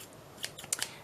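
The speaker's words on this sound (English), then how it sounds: "So we've got these lovely big scissors." Large craft scissors being handled close by, with a few quiet metallic clicks and snips bunched near the end against a soft, hissy background.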